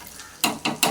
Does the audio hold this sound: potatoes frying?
yes